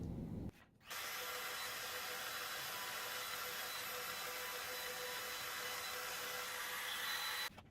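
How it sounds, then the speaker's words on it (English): A router cutting a test groove in a scrap piece of wood while building a wall-mounted jewelry armoire cabinet, a steady loud whine running about seven seconds after a brief start, then cutting off. "Using a little scrap piece to do a little test to see if I have the router set properly."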